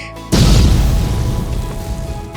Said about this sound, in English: In 1945, the swastika symbol was destroyed by the US Army in a controlled explosion.